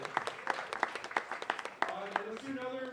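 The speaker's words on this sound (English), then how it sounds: "Round of applause for Emotion." Audience at a San Francisco startup pitch night clapping in a short burst of applause, the claps uneven and bunched together, with a voice talking over the end of it.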